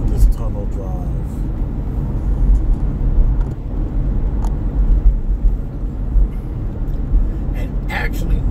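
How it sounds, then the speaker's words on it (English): A car driving through a road tunnel, its steady low rumble of engine and tyres echoing throughout, with a few faint clicks and knocks above the drone. "I love this tunnel drive."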